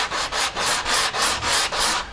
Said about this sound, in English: You can sand those saw marks off really fast, just like this.